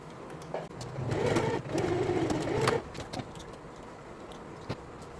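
A sewing machine stitching a seam on a flared skirt in two short continuous whirring bursts, followed by quieter clicks and handling noises.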